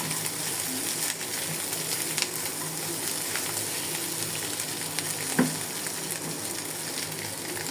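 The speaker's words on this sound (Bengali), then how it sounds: "টুকরা করা মাংস দিয়ে দেবো গরুর মাংস" Beef pieces frying in a pan after onions for noodles produce a continuous, even sizzle with occasional light scrapes and one sharper knock near the end.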